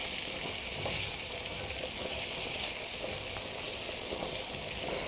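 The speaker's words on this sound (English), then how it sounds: "you can really hear that sizzle now" Steady, close sizzling of frankfurters frying in a hot pan, a continuous crackling hiss with small pops throughout.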